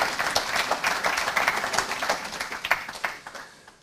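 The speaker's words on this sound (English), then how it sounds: "So I give it a round of applause to the hotel staff" Applause for hotel staff at an event previewing the All Ireland Sheep Shearing, with dense steady clapping from a crowd lasting throughout, fairly close and loud.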